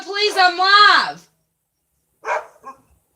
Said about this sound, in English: Can you please shut the window? I'm live and Chains is like barking up a storm